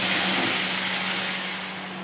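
Bay leaves, dried chillies and black mustard seeds sizzle in hot mustard oil, a steady loud hiss that fades slightly, with no talk.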